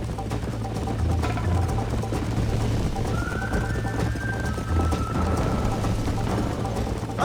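Continuous hoofbeats of a galloping horse in Red Dead Redemption under a dense, steady wash of noise, with a faint tonal whistle drifting through the middle.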